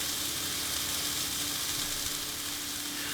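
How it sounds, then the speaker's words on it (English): Pork loin searing in a very hot pan over medium-high heat, giving a dense, even hiss of frying that holds steady throughout. "So I have this pork loin going on a medium-high heat."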